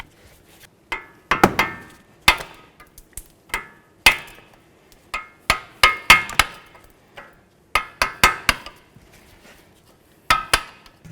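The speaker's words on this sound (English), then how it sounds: "take a chisel or whatever you might happen to have and clean that out" A chisel clears corrosion from an aluminum steering knuckle on a 2008-12 Chevy Malibu, with sharp metallic taps and scrapes coming in irregular clusters, close and fairly loud, with no talking.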